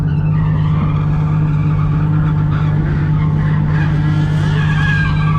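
Car drifting with the e-brake at a track, a loud continuous engine drone with tire squeal rising and wavering over it, close and sustained throughout, no talk.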